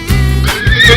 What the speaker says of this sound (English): Zebra.